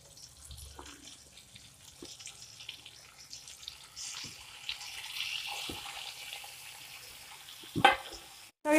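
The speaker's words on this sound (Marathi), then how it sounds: "सगळीकडून बटर लागेल असं परतून घेऊ आपण त्यांना" Potato-stuffed tomatoes turning in melted butter in a pan, a faint sizzle with scattered spoon taps and clinks that grow busier toward the end, ending on a louder knock; nobody speaks.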